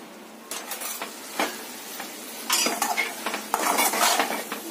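Metal utensils scrape and clink against a pan in bursts, with a soft bubbling sizzle underneath from Madurai-style chicken curry simmering on the stove.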